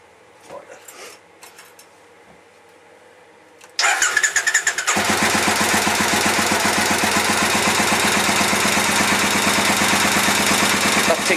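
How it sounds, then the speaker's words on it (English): A 2002 Triumph Bonneville America motorcycle engine with freshly vacuum-balanced carbs fires up after a quiet few seconds of faint handling noises. It cranks briefly, then holds a loud, close, even idle with a steady pulsing beat. "That tick over sounds nice now."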